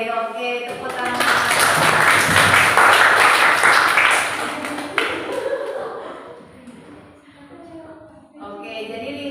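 A classroom bursts into applause for the top-ranked students, a loud burst of clapping for several seconds that fades out, followed by quieter room noise and a teacher's voice.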